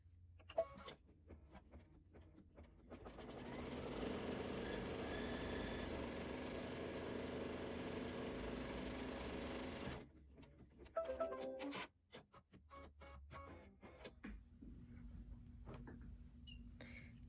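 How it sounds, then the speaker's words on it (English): An embroidery machine stitches down appliqué fabric in a continuous mechanical run of several seconds, fairly quiet and close. It is framed by softer handling clicks and rustles before and after. "Let's go ahead and tack down our applique fabric."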